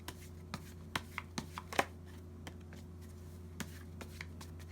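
Tarot cards shuffled and drawn close up, a series of soft papery flicks and slaps at uneven intervals with one louder riffle near the middle, over a faint steady background hum.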